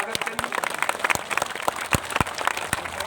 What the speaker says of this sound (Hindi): जोरदार ताली बजा करके पारस मिश्रा का स्वागत करिए